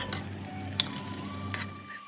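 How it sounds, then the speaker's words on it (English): Gokul pithas frying in ghee with a quiet, steady sizzle and a couple of brief clinks from a utensil, close but soft, with no voices. "Now that the other side is also nicely fried and golden, take them out one by one from ghee"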